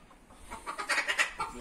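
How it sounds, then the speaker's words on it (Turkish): An Asil Indian rooster and hens, the roosters squaring off, give a quick series of sharp clucks and calls that build in loudness, close by and without talk. "Horozlar kafa tutuyor maşallah."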